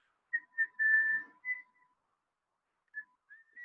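A storyteller whistles to imitate a character's distant whistles, giving a few short, clear notes and then a longer held one, a pause, and two more brief whistles, soft and alone.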